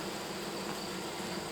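Steady, dense buzzing of honey bees at a hive being gently smoked during a rescue from a wall, a continuous even drone close by with no voices.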